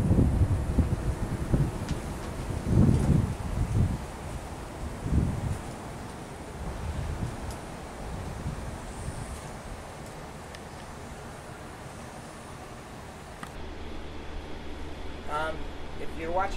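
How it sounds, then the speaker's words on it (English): Wind blows at about 20 mph from the west across Horsethief Canyon, California, during the Holy Fire wildfire. It comes as rumbling gusts that buffet the microphone, loudest early and easing later, with voices faintly present at times. "The wind is blowing almost 20 miles an hour out of the west."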